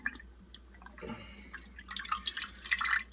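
Kombucha starter liquid dripping off a fleshy scoby mother, faint scattered drips and small splashes that thicken into a brief trickle near the end, close and quiet.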